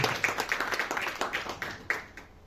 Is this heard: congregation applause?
yes